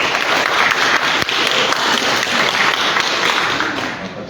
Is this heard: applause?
yes